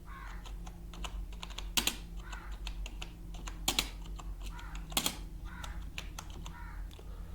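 Typing on a computer keyboard while writing text in Microsoft Word, a quiet steady patter of key clicks with a few louder, sharper keystrokes, close and alone with no talk.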